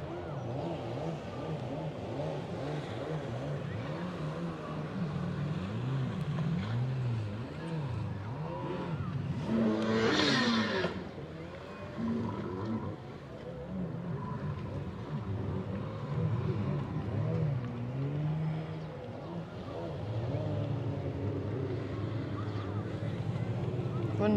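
Motorboats pass through a sunny bay off Palmanova and Magaluf on Mallorca, a distant droning engine hum under wind noise, with one louder boat surging past midway.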